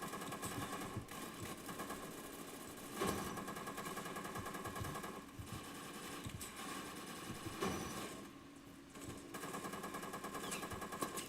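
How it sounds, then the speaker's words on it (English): Dual submachine guns fire in a video game in sustained, rapid automatic bursts, loud and continuous with brief gaps, no voices over it. "weapon of choice, dual submachine guns"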